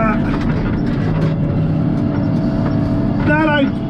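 A logging skidder drives over hilly ground, its diesel engine droning loud and close with steady rumble and a brief squeal near the end, while someone talks over it.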